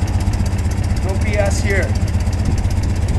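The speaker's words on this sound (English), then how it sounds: "How's that for a cold start? It's a one kick bike." A restored 1965 BMW R69 motorcycle engine idles after a cold start with a steady, even low putter throughout, while someone speaks briefly over it.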